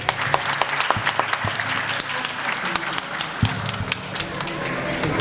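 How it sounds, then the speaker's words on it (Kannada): Children and families clapping at a Kannada school annual day after a devotional Ganapati song, a scattered, uneven patter of hands with sharp individual claps standing out, continuing for several seconds as the room stays lively. "ಎಲ್ಲರೂ ಚಪ್ಪಾಳೆ ಹೊಡೀರಿ"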